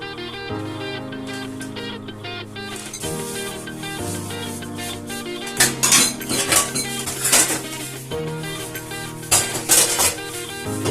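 Dishes, cutlery and pots clatter and clink while being washed in a home kitchen, with repeated bursts of metallic scraping and knocking over a steady background.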